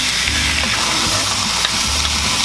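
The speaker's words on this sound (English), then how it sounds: "So I'm going to saute this for about 4 minutes to 5 minutes." Red curry paste sautéing in a pot, giving a dense, loud, continuous sizzle, with a stirring utensil scraping and knocking now and then; close, with no voices.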